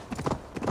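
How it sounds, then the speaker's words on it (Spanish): Horse hooves clip-clopping in Assassin's Creed Valhalla, a quick close run of hoofbeats over a steady game backdrop. "Están bonitos los caballos"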